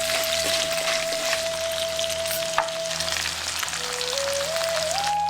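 Steady, loud sizzling of chopped large onions frying in hot oil, continuous throughout with a faint tonal hum in the background.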